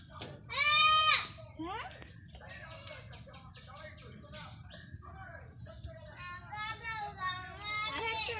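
A goat bleats loudly near the start, then more wavering bleats follow in bursts under nearby voices talking, with birds chirping faintly in a rural yard.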